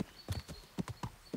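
Horse hooves clip-clop at a brisk, uneven rhythm in the medieval video game Kingdom Come: Deliverance, close and distinct, about eight sharp knocks in quick succession.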